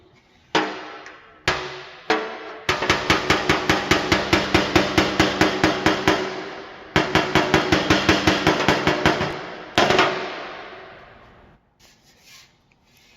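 Rapid series of sharp metallic knocks and pops on a Nissan 240sx steel body panel as a dent is pushed out, loud and close with brief pauses between bursts, no talking.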